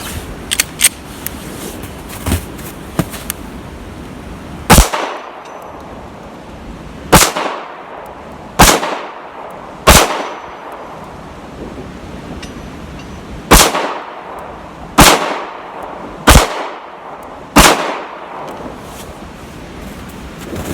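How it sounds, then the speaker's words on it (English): Pistol gunshots from a Taurus G2 and a Smith & Wesson M&P during outdoor target shooting at non-reactive targets, about ten sharp loud reports spaced irregularly a few seconds apart, with a few lighter pops early on over a steady wind-like background. "I've got a couple different targets over that I'm shooting at."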